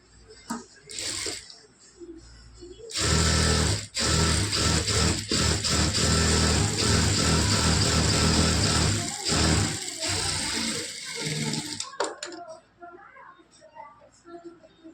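A sewing machine stitches a quarter-inch folded blouse hem in a loud, continuous run lasting several seconds, with brief pauses and handling noise around it.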